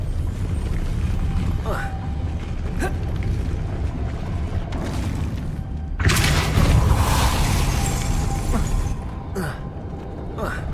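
A Depulso force spell cast in the Hogwarts Legacy video game, heard as a loud booming blast that swells near the middle and rumbles on over a continuous game soundscape, with short sharper hits before and after.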